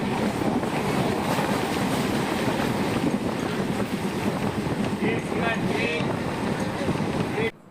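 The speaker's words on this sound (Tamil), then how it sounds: "ஸோ அந்தளவுக்கு ஒரு ரொம்ப ஃபாஸ்ட்டான ட்ரெயின் தாங்க இது" The Jan Shatabdi Express rumbles along the rails at speed between Mayiladuthurai and Coimbatore, a steady loud roar with wind buffeting, continuous until a sudden cut at the end.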